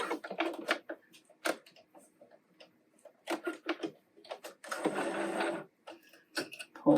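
Sewing machine back stitching a T-shirt hem: short bursts of rapid mechanical ticking separated by pauses, one longer whirring run in the middle, close and clear.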